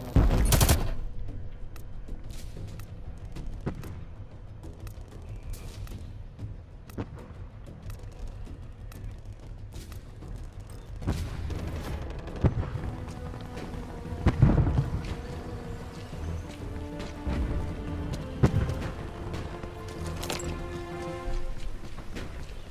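Incoming artillery fire in the video game Dirty Bomb: repeated booms and crackling gunfire bursts at irregular intervals over a steady rumbling battle din, with a few sharp heavy impacts standing out.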